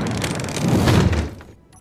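Warhead detonating in Space Engineers, a broad rumbling boom that swells to a peak and then trails away into quiet, with a faint click at the very end.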